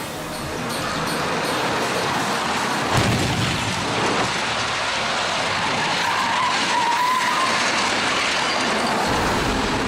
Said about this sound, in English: The empty vehicle gets blasted by a Mustang at nearly 70 miles an hour